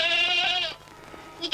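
A goat bleats in an animated cartoon, a single long, wavering, close bleat that fades out, followed by a brief faint sound.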